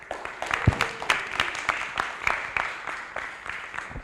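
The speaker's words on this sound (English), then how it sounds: "Let us give her a better clap" An audience at an International Youth Day event applauds a poet after a spoken word performance, with a dense patter of clapping from a modest crowd that is fairly close and steady throughout.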